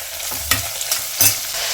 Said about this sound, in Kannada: ಈರುಳ್ಳಿ ಹಾಕ್ತಾ ಇದ್ದೀನಿ. ಮಿಕ್ಸ್ ಮಾಡೋಣ ಇದನ್ನ.